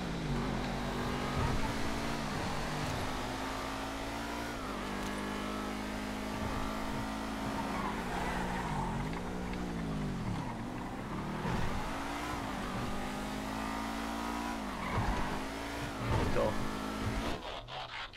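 Racing car engine, a 770 model in a GTA race, revving up and down through repeated gear shifts with faint tire squeal, heard steadily while a person talks over it.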